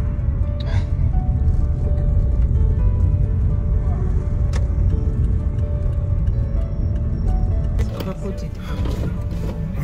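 Steady road rumble and engine drone from inside a moving car, loud and continuous throughout, with a brief shift near the end.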